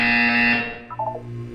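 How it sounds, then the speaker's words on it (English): In the video game Portal 2, an electronic buzzer sounds as a loud, steady high-pitched tone lasting about half a second, then fades into a short series of lower blips. "You will hear a buzzer."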